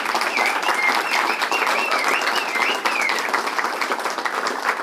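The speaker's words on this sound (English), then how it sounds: "give her a round of applause" Dense, steady applause from an audience at a byelection event fills the whole stretch, with loud, close clapping and no talk over it.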